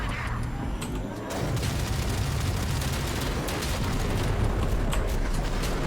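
Enemies in Warframe burst apart in a rapid run of booming explosions, dense and continuous, layered over the clatter of combat.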